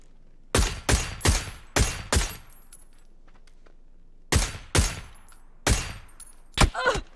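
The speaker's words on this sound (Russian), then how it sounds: "Хорошая стрельба" Gunshots in PUBG: two bursts of five sharp, loud, evenly spaced shots each, separated by a pause of about two seconds, with a faint tail after each shot and no talking over them.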